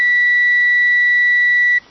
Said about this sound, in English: and you can hear it beeping.